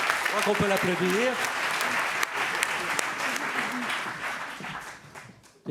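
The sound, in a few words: audience applauding at award ceremony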